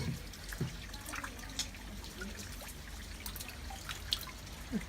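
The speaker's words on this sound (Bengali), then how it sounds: "পানি কেমনে গড়াই যাচ্ছে" Rainwater trickling and dripping steadily in a flooded street in London, with scattered close drips over a continuous low wash of flowing water, fairly faint.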